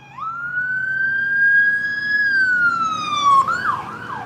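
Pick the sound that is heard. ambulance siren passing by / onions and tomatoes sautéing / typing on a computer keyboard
ambulance siren passing by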